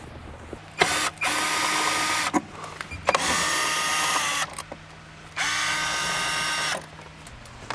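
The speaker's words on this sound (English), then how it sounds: "this will expose some 10mm and Phillips screws, so I'm going to remove all of them" Power driver removing 10mm and Phillips screws from the interior trim of a Lexus LC 500, three separate bursts of loud whirring, each a second or more long, separated by quiet pauses and small clicks.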